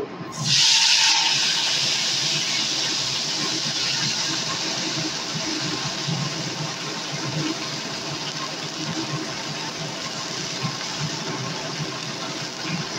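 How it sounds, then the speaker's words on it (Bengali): Okra goes into hot oil already seasoned with turmeric, setting off a sharp, loud sizzle that slowly eases into a steady, dense crackle of frying close by, with no talking. "এখন আমি ভেন্ডিগুলোকে দিয়ে দেব।"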